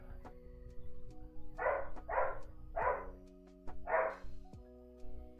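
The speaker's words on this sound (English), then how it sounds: "I'm sorry if you hear my dog." A pet dog barks nearby in a home, five sharp barks in two quick pairs and a single, set over a steady tonal hum in the room.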